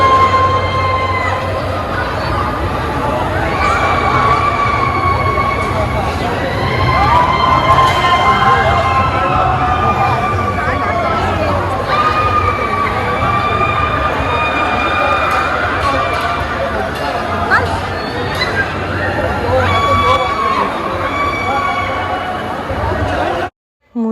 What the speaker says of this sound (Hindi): जिस राइड को रिकॉर्ड करने के लिए मैं इतनी देर से वेट कर रही थी वो स्टार्ट हुई